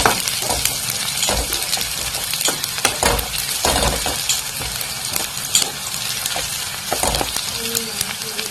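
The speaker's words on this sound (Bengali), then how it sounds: "তো এখন আমি পেঁয়াজ একটু ভাজা ভাজা করে নিয়ে" Chopped onions and green chillies sizzle steadily in a pan, broken by repeated scraping and clinking as a spatula stirs them, close and fairly loud throughout.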